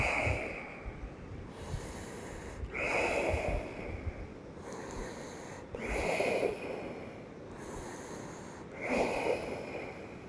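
Deep breathing during a yoga exercise, slow audible inhales and exhales recurring every few seconds, close and fairly soft over a faint background hiss, with no talk.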